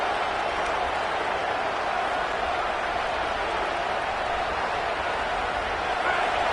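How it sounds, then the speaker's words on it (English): A packed football stadium crowd roars at full volume in a dense, unbroken wall of cheering noise that holds steady throughout. "This crowd, full throat, splitting the eardrums and letting them know it's going to be a long day."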